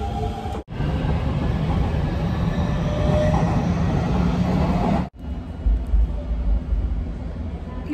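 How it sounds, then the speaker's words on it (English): A train at a railway station in Japan, a steady loud rumble and rolling clatter nearby that cuts out briefly twice, with faint voices underneath. "Nandito na ako sa train station"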